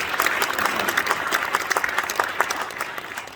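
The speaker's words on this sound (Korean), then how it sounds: "우리 모두를 환영하는 마음으로 박수하도록 하겠습니다." An audience at a Christian school ceremony breaks into loud, continuous applause, many hands clapping together in a dense, even wash for the full few seconds.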